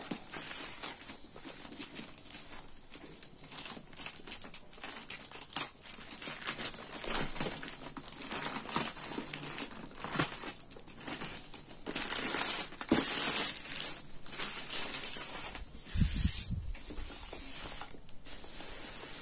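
A Diamond Art Club diamond painting kit package is being unwrapped and opened up close, with crinkling plastic, rustling and crumpling, and occasional soft thumps and scrapes over about twenty seconds, with no talking.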